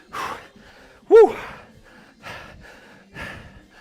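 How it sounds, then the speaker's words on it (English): Heavy, exaggerated breathing during a live workout session, a few loud gasping breaths and exhales spaced across a few seconds, close and fairly loud with no talk. "Heavy, creepy breathing."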